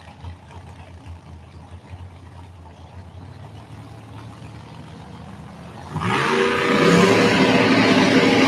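A 2012 Volvo drag racing car at a Houston track, a low engine drone building gradually before a sudden loud surge of revving that stays strong and close to the end.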